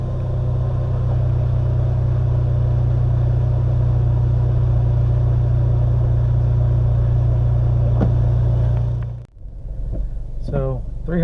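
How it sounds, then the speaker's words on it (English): A 2016 VW Golf R fitted with a Stage 3 Southbend clutch idles on a cold start, a steady deep low rumble close by from outside that runs unbroken for about nine seconds, then dips abruptly and continues more quietly. "Here's a cold start of a 2016 Golf R with the Stage 3 daily Southbend clutch."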